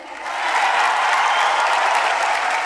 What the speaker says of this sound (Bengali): তালিটা আর একটু জোরেই হোক